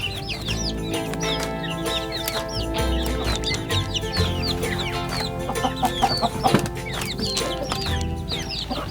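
Young chickens in a brooder pen, separated from their parent about a month earlier, cluck and cheep steadily and close by, with many overlapping peeps and no talking.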